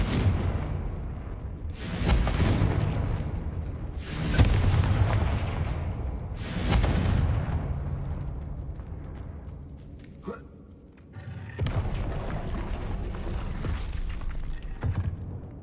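Explosions from the Confringo blasting spell in Hogwarts Legacy, several heavy booming blasts with long rumbling tails, one after another over about fifteen seconds.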